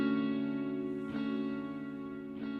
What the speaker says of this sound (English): So now we just have a straight delay.